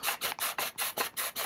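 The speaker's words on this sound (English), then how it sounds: "using this aluminum sanding bar" An aluminum sanding bar is drawn back and forth over the bottom and edges of a workpiece, producing eight steady, evenly spaced rasping strokes, close and moderately loud with brief pauses between passes.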